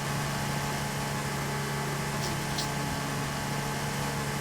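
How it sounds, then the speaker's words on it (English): An F1 racing car engine in a video game drones steadily with a dense, high buzzing tone, sustained at an even, moderate level with no speech. "revving the shit out of the engine as he's going to come into the pits"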